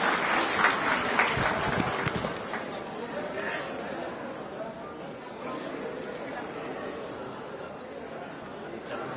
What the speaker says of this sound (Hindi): उनको जोरदार तालियों से स्वागत करें